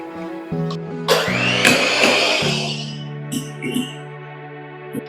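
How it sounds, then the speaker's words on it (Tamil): A kitchen blender grinds yogurt and cream for mango ice cream in short whirring bursts, its motor starting and stopping several times with a rough churning rush in the middle. "யோகர்ட்டும் கிரீமும் சேர்த்து அரைச்சிக்கிறோம்."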